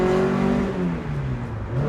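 Alpine A110 rally car engine revving hard up through the gears, loud and close, a continuous rising and falling drone with no talk over it.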